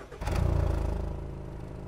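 An SUV's 2.5-litre naturally aspirated engine starts up: a short crank, then the exhaust catches with a deep, loud rumble that settles into a steady idle, close by.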